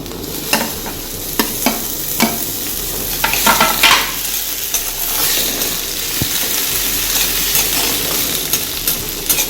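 Chopped tomatoes go into a pan of browned onions, giving a loud continuous sizzle broken by sharp scrapes and taps of a spoon stirring against the pan, with no talking.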